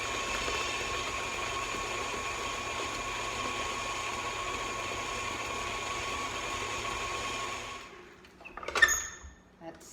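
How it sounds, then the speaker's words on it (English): Electric mixer beating Nutella into oatmeal cookie dough, a steady motor hum running for several seconds before it is switched off and a short clatter follows. "So let's turn this on and get the Nutella mixed in."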